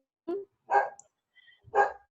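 A dog barks three times in short, separated bursts, somewhat distant and moderately loud, during an online meeting with no talk over the barks.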